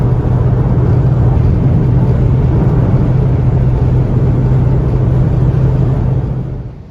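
A cammed New Edge 2V Ford Mustang GT V8 idles with a steady, deep, lumpy rumble up close, holding even for several seconds before fading out at the end.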